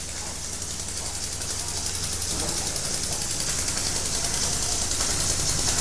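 Small homemade steam engine running steadily: a continuous, rapid, hissing mechanical chatter with a fast rhythmic beat and a broad airy hiss, close and constant throughout.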